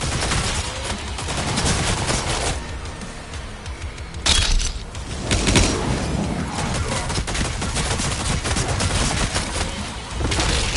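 Sustained, loud gunfire from a weapon in DOOM: The Dark Ages, rapid bursts of cracking shots with heavy impacts and a sharp bang near the middle, continuing almost without pause.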